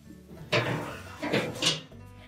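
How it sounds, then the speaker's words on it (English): Metal oven racks slide out of a Whirlpool range, two scraping, clattering pulls in quick succession, fairly close and moderately loud. "we'll just remove the racks"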